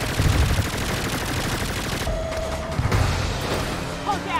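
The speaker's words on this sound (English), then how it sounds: "They're shooting the RV!" In the Saints Row (2022) video game, enemies fire guns at an RV: dense, continuous rattling gunfire with heavier impacts, loud and close, while voices shout over it.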